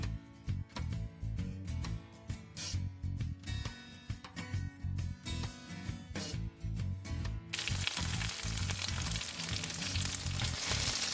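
Asian cabbage rolls frying in oil, a steady close sizzle broken by rhythmic scraping bursts of a spatula for the first seven seconds, then a continuous loud hiss of hot oil.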